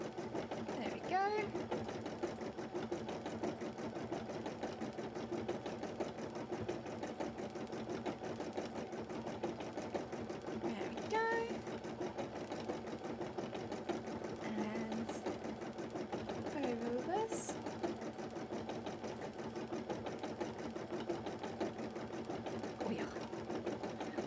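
An embroidery sewing machine stitching a large design for a cosplay, a fast, steady mechanical whir and rapid needle chatter running continuously, with a voice talking briefly over it.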